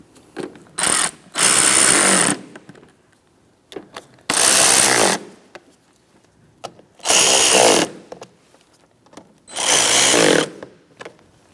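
A power tool drives the bolts on the coolant reservoir of a 2003-2007 Cadillac CTS with the 3.6L V6. Four loud, close whirring bursts of about a second each are separated by short quiet gaps and faint clicks.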